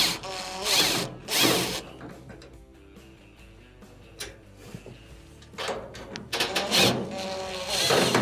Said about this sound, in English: make sure you put your leg or something against the front when you're removing the 2 top screws